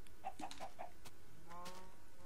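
Video-game chickens cluck in a quick series of short calls, followed by a longer drawn-out squawk, fairly close against a quiet steady background.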